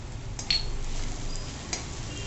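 Sambar masala being sautéed in a pot, with a utensil scraping and clinking against the metal a few times over a low, even sizzle, close by with no talking.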